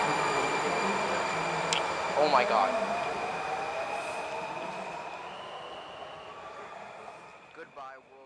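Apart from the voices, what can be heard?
DC Metro subway train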